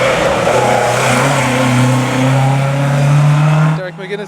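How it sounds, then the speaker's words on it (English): A rear-wheel-drive Class 2 Talbot Sunbeam race car at an Irish hillclimb in Clare and Galway, its engine a loud, close, sustained drone with a slowly rising pitch that cuts off abruptly near the end. "Derek McGuinness was enjoying the debut of his Class 2 Talbot Sunbeam."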